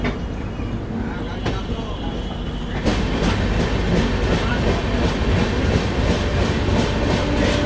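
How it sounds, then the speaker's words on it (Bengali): A train rolls through Howrah railway station with a loud rumble and a regular clickety-clack of wheels that grows stronger partway through, while voices murmur faintly underneath. "আমি আছি হাওড়া রেলওয়ে স্টেশনে"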